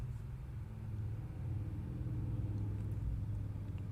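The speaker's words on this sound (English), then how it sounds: "There are so many loud cars outside right now." Loud cars drive by on the street outside, a steady low engine rumble that grows slightly heavier partway through, with no voices.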